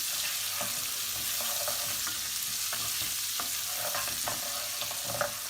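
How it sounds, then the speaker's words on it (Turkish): Orzo-shaped vermicelli stirred with melting butter in a pot for buttered pilaf, a steady low sizzle with occasional light scrapes and clicks of a spoon against the pot throughout. "Şimdi biraz da tereyağla birlikte eriyene kadar pişireceğim."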